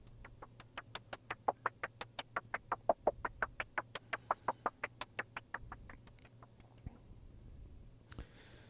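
Buchla 212r modular synthesizer output amplifier with control voltage driving amplitude, giving a rapid, evenly spaced train of short percussive pulses for about six seconds before fading into sparse faint blips, close and clean with no talk.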